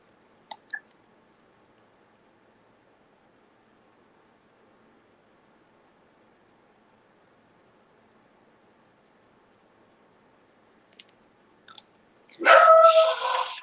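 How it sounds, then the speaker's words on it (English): Ruby, a pet dog, lets out a short burst of loud, close barking at the very end, after long near-silence broken only by a few faint clicks. "my dog keeps saying that I'm going off"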